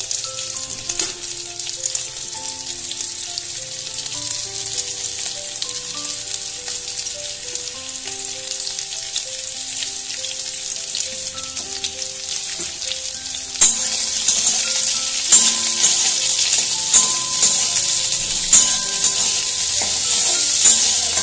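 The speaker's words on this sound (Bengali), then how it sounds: "পেঁয়াজটা ভাজা হতে থাক" Chopped onions sizzle steadily in hot oil, a constant crackling hiss that grows louder partway through, with occasional stirring clinks.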